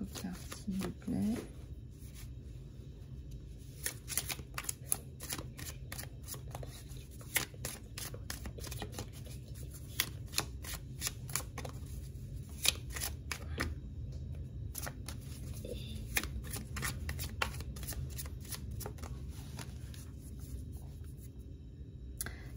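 Tarot cards being shuffled by hand, a long run of soft crisp riffling and card slaps in irregular bursts, close and moderate, with a voice speaking quietly at times.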